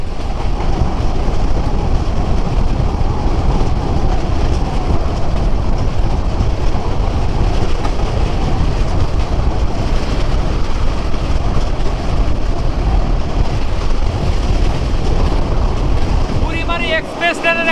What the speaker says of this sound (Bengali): বুড়িবাড়ি এক্সপ্রেস ট্রেনটি লাইন ক্লিয়ার করে দিয়েছে আমরা বের হয়ে গেলাম জামতলা স্টেশন থেকে